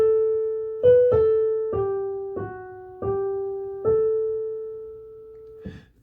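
The London Bridge melody is played note by note on a keyboard, starting on scale degree 5, a handful of clear tones in a moderate rhythm, ending on a held note.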